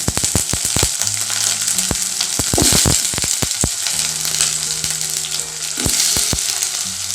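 Chopped banana stem pieces sauté in a hot pan for chutney. A steady, close sizzle runs throughout, broken by sharp knocks and scrapes from a spoon stirring at an uneven pace.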